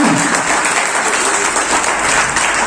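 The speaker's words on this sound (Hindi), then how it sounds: "तो एक बार अपने लिए जोरदार क्लैपिंग करिए" Sustained, vigorous applause from a large seminar audience at a health company event in Satna, close and even from start to finish with no clear speech.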